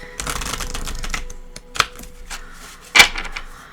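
A deck of 52 playing cards shuffled for a tarot reading gives a run of quick riffling rattles, then a few short flicks and a sharp snap near the end, close up and alone.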